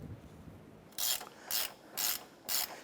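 A ratchet wrench tightens engine mount bolts on a 2008-2012 Honda Accord during a right front mount replacement, four evenly spaced bursts of rapid close clicking after a quiet start.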